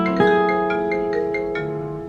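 A guitar chord from a song strums once and rings on, its notes sustaining and slowly fading, with a few lighter plucks heard over the decay.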